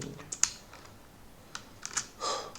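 Computer keys clatter in short, irregular bursts while a Java program is typed, close and moderately quiet, with brief pauses between clusters of keystrokes.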